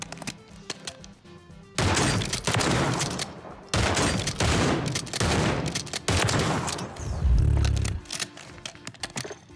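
Video game gunfire rings out in loud bursts of rapid shots separated by brief pauses, with a heavier thump near the end, no talking.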